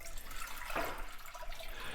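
About a quart of water poured from a pitcher into a cooking pot, a steady close splashing rush lasting a couple of seconds with no talk over it.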